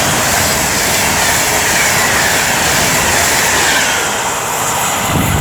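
Avanti West Coast Class 390 electric train, unit 390.008, on the West Coast Main Line at Rugeley Trent Valley, a loud, close broadband roar and rush of wheels on rails that holds steady throughout.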